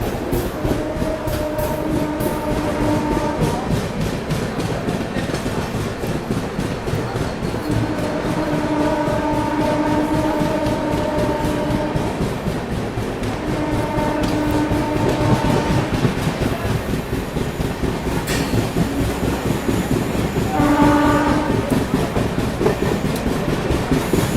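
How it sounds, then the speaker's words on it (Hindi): A Mumbai train speeds through Thane railway station without stopping, giving a loud, continuous rumble and rattle of wheels on track, broken by several long horn blasts. "Skipping Thane railway station."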